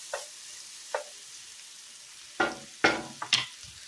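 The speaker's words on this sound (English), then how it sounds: "So all the grease from the bacon is what's going to help these veggies get sauteed." Vegetables hitting bacon grease in a pan for green beans and potatoes, a few short bursts of sizzle and stirring scrapes separated by quiet gaps, fairly faint and close, with no voices.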